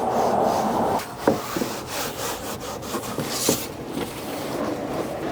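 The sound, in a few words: wiping trim restorer over black interior trim with shop towel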